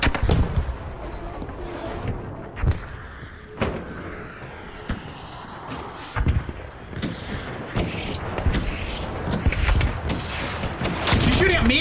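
Another player fires at close range in ARC Raiders, loud sharp gunshots snapping out at irregular intervals over a dense bed of game noise.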